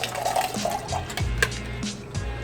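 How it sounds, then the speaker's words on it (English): A Tea Party Martini cocktail is rolled from a spit cup into a tin, giving short close splashing and liquid-filling sounds in quick bursts with small drips between them, and nobody speaks. "you can also come here on your right to pour from the spit cup to the tin"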